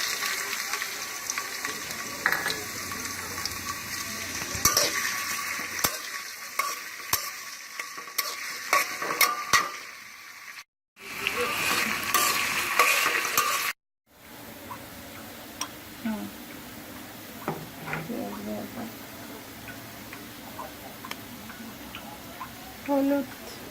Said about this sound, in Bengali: চুলায় তেল গরম হয়ে গেছে, আমরা পেঁয়াজ কুচি দিয়ে দিব